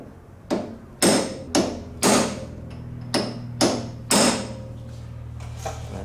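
Hammer blows stake an axle nut into the indent on the rear axle shaft of a 2004 Yamaha Grizzly ATV, about seven loud, close metallic strikes at uneven intervals.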